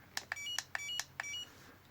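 A Flysky G7P radio transmitter's timer gives a rapid series of short, thin beeps, around six chirps in quick succession, faint over a low hum.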